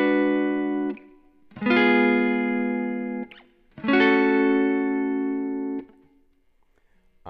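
Electric guitar played through the neck pickup with volume and tone controls fully up and EQ switched off, two long sustained chords ringing clearly and decaying, separated by a short gap, with no voice.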